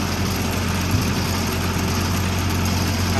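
An IH Cub 154 Loboy tractor engine idles steadily nearby, a smooth and even low rumble with no talking.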